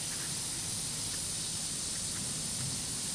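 Steady hiss of an irrigation system's lawn sprinkler nozzle throwing water, a continuous broadband rush with no voices.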